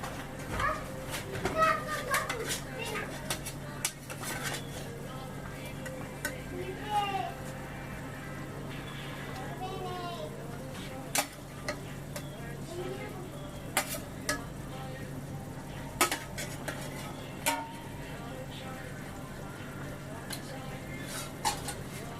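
Rui fish sizzles and fries steadily in a pan for a raw banana curry, with occasional stirring clatter and scraping over the continuous crackle and a few brief sharp knocks.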